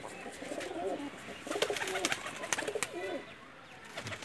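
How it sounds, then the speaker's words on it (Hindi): Pakistani breeder pigeons, including Ferozpuri and golden birds, coo softly in low, throaty, repeated phrases, with scattered wing flutters and clicks around them in a close enclosure. "ये मेरे पसंदीदा ब्रीडर कबूतरों के शौक़ करेंगे।"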